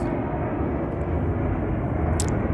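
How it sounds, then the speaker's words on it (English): An airplane passes overhead at 5:41 a.m., a continuous low, broad engine roar that holds steady at moderate loudness throughout, with no voices. "And you're listening to the sound of that plane."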